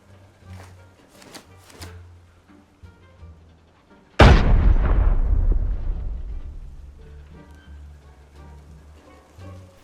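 A loud, booming explosion in the video game Arena Breakout erupts suddenly, then a long rumbling decay fades over several seconds, with faint game sounds before it.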